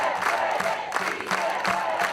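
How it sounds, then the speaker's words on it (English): A cinema audience cheers and claps for a historic activist, a continuous roar of many voices that swells in waves, with no single voice standing out. "An inspired audience cheering for one of history's unsung heroes."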